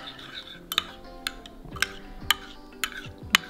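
Salt being stirred by hand into a Thai chili garlic dipping sauce, a series of light spoon clinks and scrapes against the bowl repeating about every half second, close and fairly quiet.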